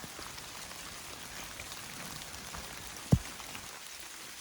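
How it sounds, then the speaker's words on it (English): Rain falls steadily on a wet day hiking the Appalachian Trail, a soft, even hiss of drops close by with one brief louder tap, and no talking. "we're gonna have many days like this that we're walking in the rain"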